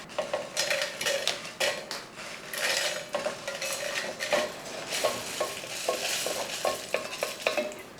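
Ingredients are heated and stirred in a pan, with a utensil repeatedly scraping and clattering against the metal over a light sizzle in an irregular, busy rhythm; no one speaks.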